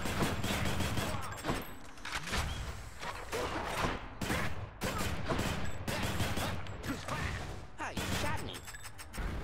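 The Rail of Adamant, the Exagryph gun in the Hades video game, fires in dense, continuous bursts of heavy shots for the whole stretch, with game effects and a voice over the top.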